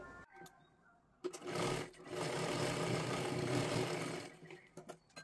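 A sewing machine stitches a katori blouse in a quiet room, a rapid, even whirring run of about three seconds after a short starting burst, with light clicks of handling before and after.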